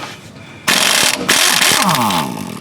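An Earthquake compact impact wrench on a 2002 Ford F150's steering linkage hammers hard and close in a loud burst, pauses for an instant, then rattles on again, with the pitch shifting as the bolt breaks loose.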